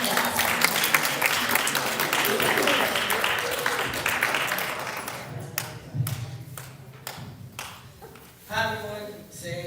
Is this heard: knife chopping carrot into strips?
no